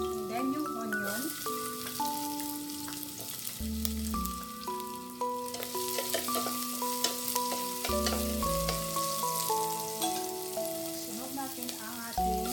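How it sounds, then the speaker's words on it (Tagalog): Garlic and onion sauté in a pan for pork caldereta, giving a soft steady sizzle under louder background music. "isusutay natin yung garlic. Then yung onion."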